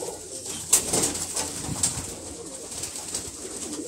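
Pigeons coo softly and repeatedly nearby, low rolling calls over a faint hiss, with a few brief rustles and clicks.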